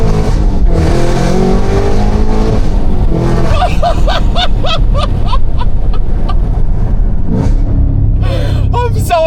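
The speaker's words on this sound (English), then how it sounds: "the downshifts are just world-ending" Loud, continuous engine and straight-piped exhaust roar from a Cadillac CT5-V Blackwing with rising and falling revs, crackling pops bursting through as the engine drops through the gears.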